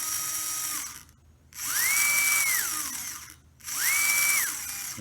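The motor of an SCX24 RC crawler with a DW1.5 transmission runs in reverse in two close, smooth whining bursts that spin up, hold and wind down, separated by a short pause.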